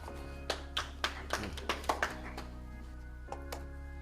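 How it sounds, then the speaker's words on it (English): A small audience at an opening bell ceremony applauds with a thin scatter of separate claps, about a dozen distinct hits over a steady low hum, fairly quiet and sparse. "I would like us to please give him a round of applause as we welcome him to the podium"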